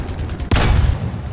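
A burst of tank machine gun fire in War Thunder ground battle, a sudden loud rattling volley that starts halfway through and runs steadily to the end over low rumble.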